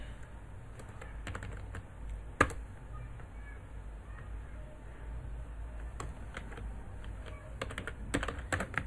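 Typing a message on a computer keyboard, soft irregular key clicks in small clusters with one sharper tap, close and quiet over a low room hum.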